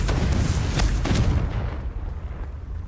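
Booming blasting-spell explosions from the Hogwarts Legacy video game, a few heavy bursts early on that fade into a rumbling tail, loud and without speech.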